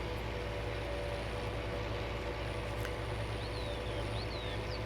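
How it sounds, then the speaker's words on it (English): A Case tractor engine from the C&H Modding pack in a farming simulator game drones steadily and continuously at close range, with no talk over it. "several people indicated that they really like the tractor sounds on these case tractors from C&H Modding"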